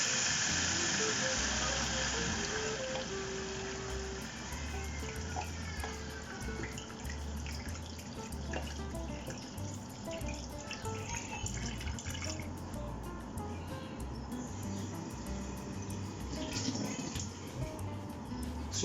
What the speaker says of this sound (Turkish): Üstünü geçecek kadar su ekliyoruz buna.